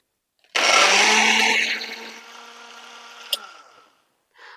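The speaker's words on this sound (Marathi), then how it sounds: "आता हे आपण मिक्सरला फिरवून घेतोय." A kitchen mixer grinder whirs loudly, blending garlic cloves, two green chillies, cumin and fresh curd, spinning about three seconds before winding down, followed by a brief click and a short rustle.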